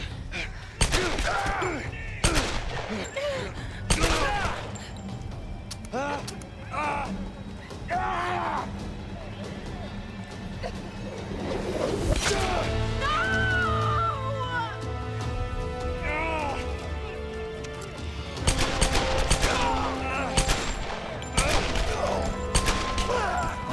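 Gunfire in Tomb Raider (2013): repeated sharp shots and bursts come in clusters at the start, again around the middle and toward the end, with talk and game ambience between them.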